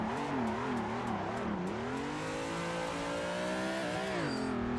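A car drifts in a racing video game played on a wheel setup, its engine holding a continuous revving drone that rises and falls with throttle, loud and steady throughout without speech.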